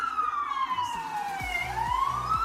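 Emergency vehicle siren passing outside a home, its pitch sweeping down and then back up, moderately distant and steady over a constant background of low traffic rumble.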